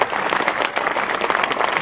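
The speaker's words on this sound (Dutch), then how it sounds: "Applaus aan de heren voor de Lotto en Jumbo." Steady applause from an outdoor crowd gathered for a Liberation Fire relay event in Wageningen, a loud continuous patter of many hands filling the moment with no voices.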